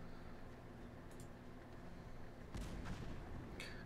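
Troops in the video game Cossacks 2 fire their guns, heard as faint, distant crackling volleys bursting twice over a quiet background hiss.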